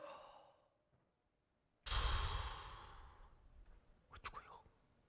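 A man imitates a dying person's last gasping breath: a soft exhale, a pause, then a sudden loud heaving gasp of air trailing off, followed by a brief breathy catch.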